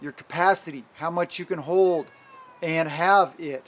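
Cat meowing on a homestead, several drawn-out meows rising and falling, close and fairly loud, interleaved with a person talking.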